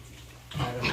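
Pigs in a pen give low grunts, quiet at first and then a louder burst of rough snorting grunts in the second half, heard without talk.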